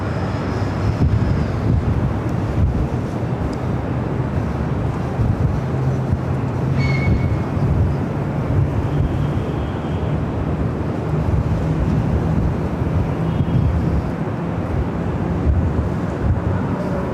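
Strong wind buffets a microphone at LAX airport, a continuous loud rumbling roar with a faint distant aircraft hum beneath it.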